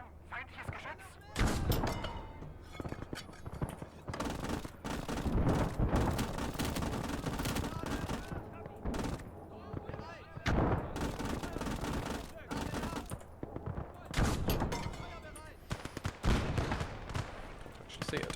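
Machine gun fire and explosions roar almost nonstop in the World War II game Call to Arms: Gates of Hell, with bursts, booms and dense gunfire layered over one another for the whole stretch.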